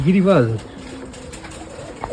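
A loud, close coo from a female Giribaz pigeon swells and warbles at the start, then fades into quiet room noise with a faint trailing murmur.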